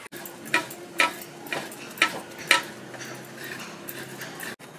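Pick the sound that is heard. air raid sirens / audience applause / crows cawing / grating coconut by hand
grating coconut by hand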